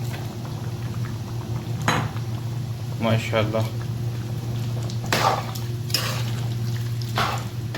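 Peeled, chopped tomatoes and about one and a half cups of oil cook in a karahi for beef karahi, giving a steady close sizzle with a few utensil clinks. A voice speaks briefly.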